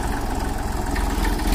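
Old Massey Ferguson 35 tractor engine running close by in a sugarcane field, a brief, steady low throbbing rumble with no voices.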